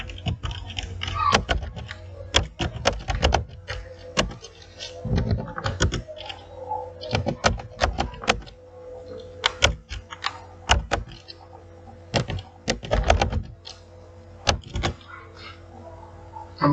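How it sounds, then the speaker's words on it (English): Keys clack on a computer keyboard in a word-processing session, coming in irregular bursts of close, crisp taps with short pauses between runs of typing. "You type that address here."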